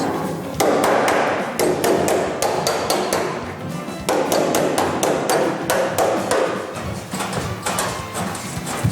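A hammer strikes the raw edge of a car body panel repeatedly, straightening it flat for welding a new panel; sharp metallic blows come in quick irregular bursts, close and loud, with brief pauses.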